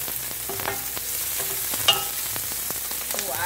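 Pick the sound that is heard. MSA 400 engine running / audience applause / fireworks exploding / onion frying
onion frying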